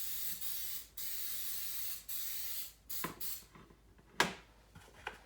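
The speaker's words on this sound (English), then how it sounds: "just go ahead and spray us this little casserole dish" Several bursts of coconut oil cooking spray hiss in short pulses into a small casserole dish, then a few small clicks and clatters of the can and dish follow.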